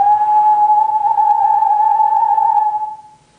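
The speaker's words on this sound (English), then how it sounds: "When I'm whistling, if I put vibrato on a note, it sounds like this." A person whistles a single sustained note with vibrato from the tongue, a loud, close, pure tone wavering steadily in pitch for about three seconds before fading out.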